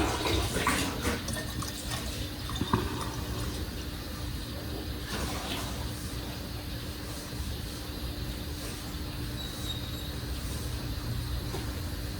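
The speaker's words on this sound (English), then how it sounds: "fill her up with the distilled water" Distilled water pours steadily into a squeeze-bulb bottle of homemade bug and mosquito repellent, a continuous low rushing trickle that runs unbroken for several seconds with no talking.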